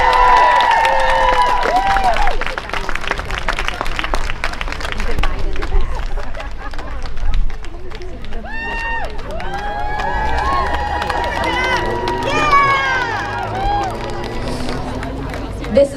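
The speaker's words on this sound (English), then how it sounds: "Can we get a round of applause for these kids?" A crowd at an outdoor health advocates' rally against Kellogg's cheers and claps for kids coming up front, with scattered whoops, shouts and chatter over loose clapping that swells and fades.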